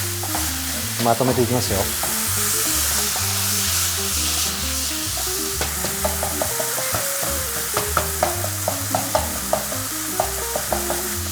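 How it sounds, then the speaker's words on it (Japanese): Chopped garlic and ginger stir-fry in a pan with a bright, loud sizzle and crackle, overlaid with background music and a few utensil clicks, while a voice speaks briefly. "さあじゃあ切ったこのニンニクと生姜を移していきましょう"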